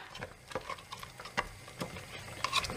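A spoon stirs ogiri into Nigerian oha soup in a pot, giving soft, irregular taps and clinks over a low bubbling, quiet and close.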